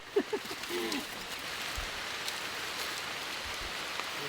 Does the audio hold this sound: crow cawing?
no